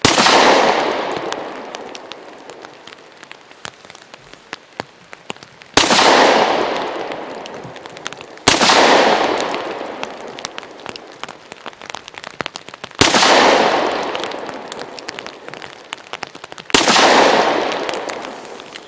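A Diamondback DB9 9mm pocket pistol fires five loud, sharp shots spaced a few seconds apart, each blast decaying into a long reverberant tail at an outdoor range.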